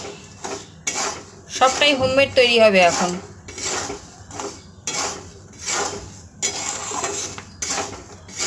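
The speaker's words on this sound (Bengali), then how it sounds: "এখানে কাঁচা বাদাম ভাজছি নুন দিয়ে নুনের মধ্যে কাঁচা বাদাম ভাজা হচ্ছে" Raw peanuts roasting in salt in a home kitchen pan, stirred so that nuts and salt rattle and scrape against the metal in repeated bursts, with a short clatter of utensils and a voice speaking briefly.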